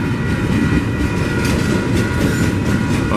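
A long freight train rolls past close by, a steady loud rumble of wagons with a regular clanking beat from a flat wheel.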